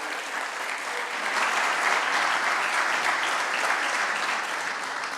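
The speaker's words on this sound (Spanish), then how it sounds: "Le pedimos un aplauso." An audience at a forestry talk applauds a guest speaker, a steady, even wash of many hands clapping at moderate volume that holds unbroken throughout.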